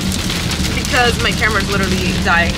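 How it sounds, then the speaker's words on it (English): Heavy rain on a drive to an appointment, a dense steady wash of downpour heard throughout, with someone talking close over it. "It is raining super duper heavy right now."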